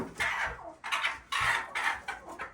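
Laying hens, including Red Bro and Master Grey, cluck in short close bursts with a steady repeated rhythm, heard alone without talk.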